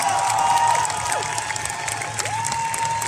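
Outdoor crowd at a Paris climate march applauding and cheering in a steady wash of clapping, with a few shouts rising over it.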